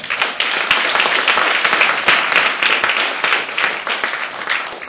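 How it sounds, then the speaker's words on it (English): An audience at a comedy evening bursts into sustained applause for a performer taking the stage, a dense, loud wash of clapping that holds steady throughout. "round of applause for Alfred Brown"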